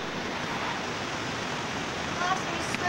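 A waterfall you can swim in gives a steady, close, full-bodied roar of rushing water that fills the whole stretch without letting up, with only slight disturbances near the end.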